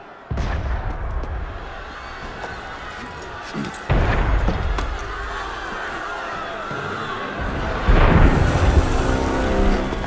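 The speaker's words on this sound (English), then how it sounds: "That was cannon fire." Deep, rumbling booms of cannon fire in the video game Assassin's Creed Unity roll in at intervals, each heavy blast followed by a lingering low rumble amid noisy background commotion.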